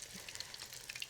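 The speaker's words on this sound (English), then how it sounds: "So we're just gonna let that fry and do its thing." Burger patties frying in a pan, a soft, steady crackling sizzle with scattered little pops, quiet and close, with no voices.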